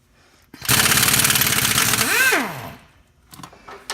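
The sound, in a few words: pneumatic air impact wrench removing exhaust bolts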